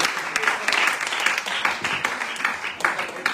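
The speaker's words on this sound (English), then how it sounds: "So it's applause," Audience applause at a school event, a steady wash of many hands clapping for about three seconds, fairly loud, with some voices mixed in.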